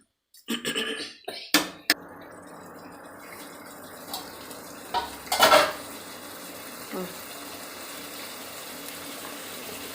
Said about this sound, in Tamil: தக்காளி விழுதையும் போட்டு நல்லா வதக்கிடணுங்க